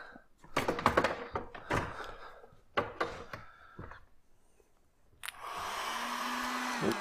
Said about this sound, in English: Now, we get to play with the power tool. Or hair dryer, whichever you have.